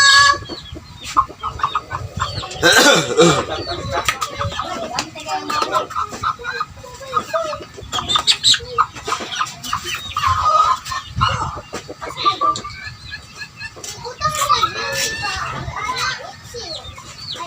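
Gamecocks clucking and calling amid a busy backyard, with children playing and people talking throughout.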